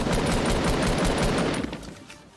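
Rapid automatic gunfire rattles loud and close in a video game, a continuous burst of shots that fades out toward the end.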